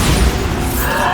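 Bombarda explosion spell going off in Hogwarts Legacy, a loud, dense burst with a rumbling crash that fills the short moment.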